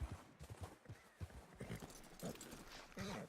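Horse hooves clip-clop at a walk in the snowy cold of Red Dead Redemption 2, a steady uneven rhythm of soft thuds close by, with faint background noise and no clear talk.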